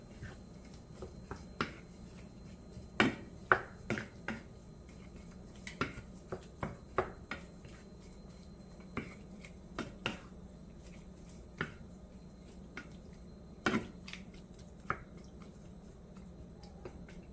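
Broccoli being stirred into a ground turkey pasta sauce in a pan, wet squelching clicks and soft smacks at irregular intervals, close and fairly quiet with no talking.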